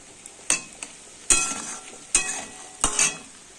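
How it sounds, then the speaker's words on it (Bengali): Diced potatoes frying with onions in a pan, soft sizzling under several sharp scrapes and clinks of a spatula stirring against the metal, spaced irregularly with quiet gaps between. "আলুগুলো পেঁয়াজের সাথে এবার একটু ভাজা ভাজা করে নেব।"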